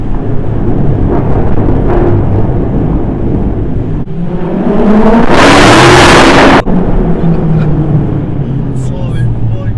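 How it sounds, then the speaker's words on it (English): A Dodge Charger Scat Pack 392 V8 engine roars up in a harsh rev with a backfire burst in the middle, rumbling steadily before and after, while people talk. "I'll show you the backfires it does"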